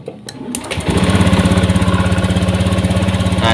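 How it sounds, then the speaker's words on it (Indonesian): A Honda Beat scooter engine cranks with a few clicks, catches, and settles into a loud, steady, pulsing idle close by. "sekarang kita hidupkan mesinnya"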